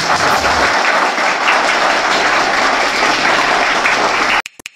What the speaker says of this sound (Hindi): तो एक बार जोरदार तालियां आपके आगमन के लिए